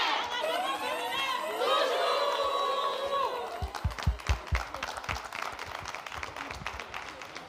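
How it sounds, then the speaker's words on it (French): Audience at a live BF1 TV entertainment show claps and chatters for a guest, the applause building then fading into loose scattered claps, with crowd murmur and voices talking throughout. "On peut applaudir pour"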